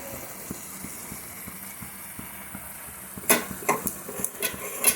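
A cabbage and egg stir-fry with chopped coriander stirred in a pan, soft regular scraping taps followed by a livelier burst of clattering spatula strokes near the end, close and without talk.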